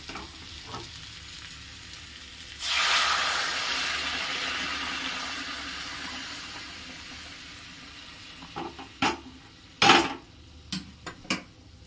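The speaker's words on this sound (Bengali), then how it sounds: "এরপরে এই কড়াইয়ের জলটা আমি এখানে ঢেলে দেব" Boiled water tipped from a wok into a cooking pan, a sudden loud hissing rush that swells and then slowly fades, followed by a few sharp clinks of utensils against metal near the end.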